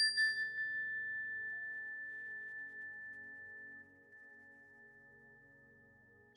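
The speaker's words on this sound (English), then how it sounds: "We'll begin the meditation with the ring of the chime" A meditation chime is struck once and rings out with a bright, steady tone that slowly fades over several seconds, heard alone in quiet surroundings.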